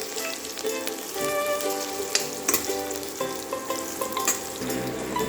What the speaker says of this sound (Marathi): हरव्यो मिरसांगो त्यो घालया, तेफळां घालया आनी आलें घालया। मातशें परतून घेवया।